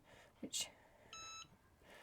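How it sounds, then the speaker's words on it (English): A single short electronic beep from a Cricut EasyPress heat press signalling it has finished rings out clearly, preceded by a few soft clicks and quiet handling noises in an otherwise quiet room. "the thing I like about the Easy Press is it beeps at you when it's done"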